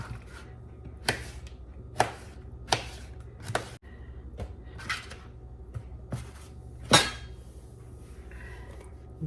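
A knife cuts garden vegetables such as eggplant in half on a cutting board during freezer meal prep, giving crisp chopping thuds at a steady, unhurried rhythm, close and clear in a quiet kitchen.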